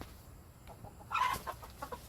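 Chickens in a backyard chicken run give a few short clucks and calls, faint at first and then louder in a brief burst, with nothing else over them.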